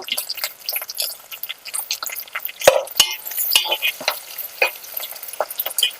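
Curry leaves frying and being stirred in a brass pot, with crackling sizzle, scattered pops and the scrape of a spoon against the metal, close and moderately loud with no talking.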